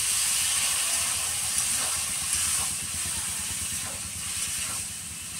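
Water is added to sliced bottle gourd vegetables cooking in a pan in an Indian village kitchen, setting off a steady, loud steam hiss and sizzle that continues evenly throughout with no talk.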